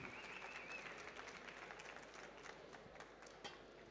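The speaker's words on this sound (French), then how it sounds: "Un tour d'applaudissements encore pour Kevin David, notre 5e finaliste World Barista France" Applause from a coffee show audience for a World Barista France finalist, a steady dense patter of many hands throughout, fairly faint and distant.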